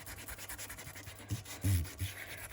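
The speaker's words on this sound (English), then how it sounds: "So I'm going to get my sander and just" A sanding tool rubbed along the edges of glossy ephemera paper for a junk journal page, a soft, close scratchy rasp that swells in short strokes and is loudest near the end, with no talking.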